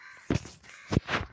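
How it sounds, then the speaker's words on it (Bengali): A crow caws three times in quick succession, close and fairly loud, each call short and harsh with brief quiet gaps between. "কাক কাউ কাউ করতেছে।"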